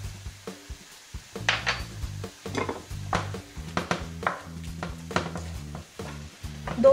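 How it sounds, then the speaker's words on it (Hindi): Chicken with crushed red chili, paprika and cumin powder cooks over medium heat in a pan, with rhythmic scraping and clanking of a utensil against the pan over a light sizzle. "दो तीन मिनट तक इसको हम मीडियम हीट पर पकाएंगे।"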